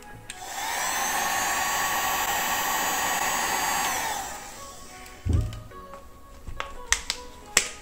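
Heat gun warming 3M wood-grain vinyl wrap on a Fiat Barchetta interior: a steady whining blower hiss for about four seconds that cuts off, followed by a few sharp clicks and taps.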